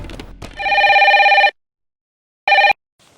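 A telephone rings in a room, one long electronic trill followed after a pause by a shorter second burst, loud and close, with brief noise before it.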